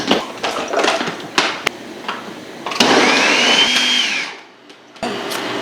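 A kitchen blender whirs through a berry smoothie of lactose-free milk, bananas, blueberries and strawberries, starting after a few clunks and knocks, running loud for about a second and a half, then winding down and stopping.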